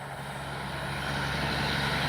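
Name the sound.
B-25J warbird model aircraft engine running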